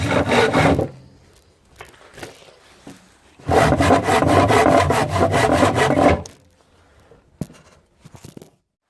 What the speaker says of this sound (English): after cutting this plywood out, very hard stuff to cut through compared to the chipboard